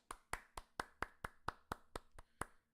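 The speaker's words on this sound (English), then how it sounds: "I'm going to clap." One person clapping hands about ten times at an even, brisk rhythm, each clap sharp and close, alone in a quiet room before stopping.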